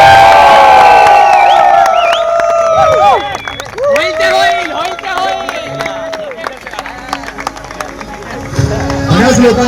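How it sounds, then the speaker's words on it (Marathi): A crowd cheers and whoops for two podcast guests, with loud shouts and excited voices at the start, then a livelier mix of cheering, yells and scattered clapping beneath chatter. "जोरदार या दोघांसाठी टाळ्या होऊन जाऊ द्या"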